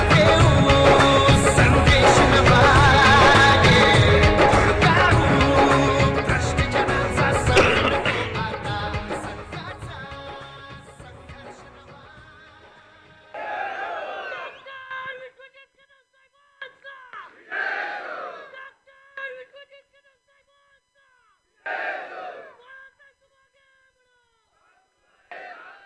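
Crowd at an outdoor political campaign rally for a candidate cheering and shouting loudly for about ten seconds before fading, followed by short bursts of amplified voice.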